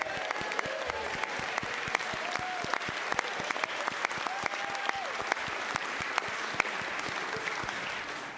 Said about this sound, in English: I know we're in a clapping mood